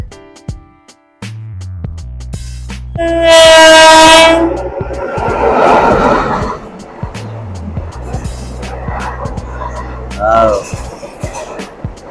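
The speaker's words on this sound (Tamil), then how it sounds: "ட்ரெயின் வருதுங்க ஒளி தெரிகிறது" A train rumbles past up close at night, its horn blaring loudly for a couple of seconds, wheels clattering as it passes, with voices and laughter nearby.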